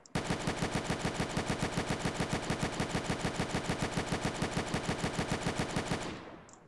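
Rapid sustained automatic gunfire from enemies in a Roblox open-world building and PvP game, a loud, even, machine-gun-like stream of shots lasting several seconds before cutting off.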